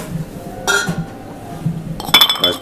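A large ice block clinks against a cocktail glass at the Beaufort Bar at the Savoy in London, with two bright, close knocks a little over a second apart in a quiet room.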